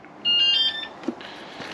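A van's alarm system being armed gives a short, sharp electronic beep, followed by a brief click and a faint quieter tone, close by with no speech.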